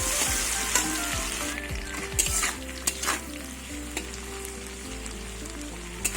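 Potatoes frying in a pan, a steady moderate sizzle with intermittent clinks and scrapes of a utensil against the pan, no voices.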